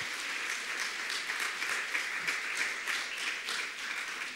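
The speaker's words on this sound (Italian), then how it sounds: "Un applauso per loro" Festival audience in Milan's Piazza Duomo applauding, steady dense clapping from a large crowd that holds at an even level for the whole stretch, with no voice over it.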